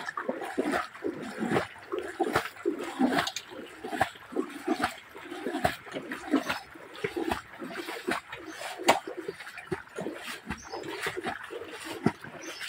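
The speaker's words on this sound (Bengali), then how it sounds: "ওখানে স্রোতের টান," Floodwater gushing in a strong current through a submerged village in Lakshmipur sloshes and splashes unevenly in dense bursts, close and turbulent, with no talk over it.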